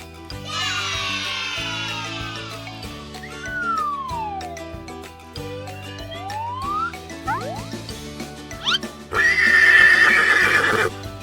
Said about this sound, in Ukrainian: А ти впізнаєш тварину за голосом? Це кінь.